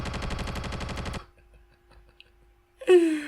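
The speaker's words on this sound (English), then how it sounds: "They have recreated the sound of gunfire." Rapid burst of recreated gunfire from the anime Dr. Stone, a fast rattling volley lasting about a second before cutting off, followed by near silence and then a sharp loud outburst at the end.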